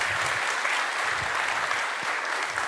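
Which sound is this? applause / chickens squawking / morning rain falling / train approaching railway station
applause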